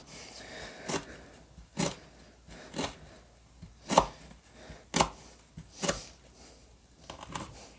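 A Spyderco Chef knife with an LC200N steel blade slices through food on a board in eight or nine crisp, evenly spaced cuts, close and fairly quiet with a faint hiss between strokes.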